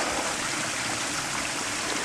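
Water from a garden pond waterfall rushes steadily back into the pond in a loud, unbroken wash that stays close and even throughout.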